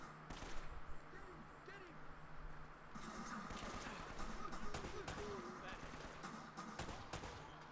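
Enemy gunfire in the video game Uncharted: Drake's Fortune, heard as quiet bursts and scattered shots under a player's ongoing commentary.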